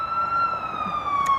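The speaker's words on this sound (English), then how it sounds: "Interesting that there's an ambulance right now because we don't want to be in that ambulance." Ambulance siren passing by outdoors in a park, a steady wailing tone with harmonics that slowly drifts downward in pitch as it moves past, loud and continuous throughout.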